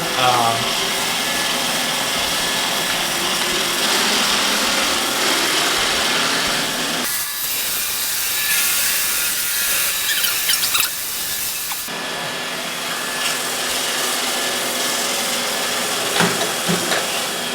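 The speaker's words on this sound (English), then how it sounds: "So we're gonna let the iRobot clean for maybe about 10 minutes, and let's see how good it is at detecting spots and cleaning dirt." An iRobot Roomba i6+ robot vacuum cleans a dirty floor with a loud, continuous motor whir and brushing hiss that shifts in tone as it moves and bumps around obstacles.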